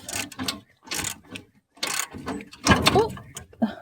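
A ratchet wrench clicks in quick, close bursts, separated by short pauses, as the last bolt comes off underneath a car.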